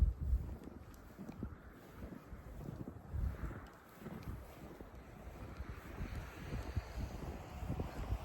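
Wind gusting across an open outdoor area, heard as low, uneven buffeting and rumble against the microphone that swells and eases, with no voices.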